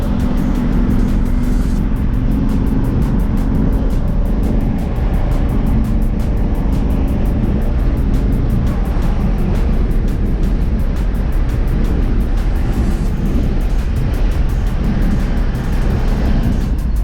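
An old-school Chevy cruising on the road, with a steady loud engine drone and broadband wind and road rumble that holds constant and close throughout, with no talk over it.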